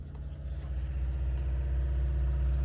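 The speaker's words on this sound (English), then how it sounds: "washing machine" A washing machine on a 1,200 rpm spin cycle drones with a steady, close, loud motor hum that builds slightly in strength and stays even throughout.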